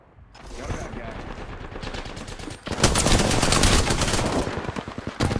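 Rapid automatic gunfire from a video game shooter, a dense continuous burst that grows louder and fuller midway, with voices talking over it.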